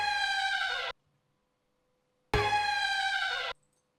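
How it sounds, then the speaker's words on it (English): An eerie sampled tone, bright and buzzy with rich overtones, sounds twice in a drum beat, each burst about a second long and cut off abruptly, separated by silence. "we've got this kind of eerie sound, just like this."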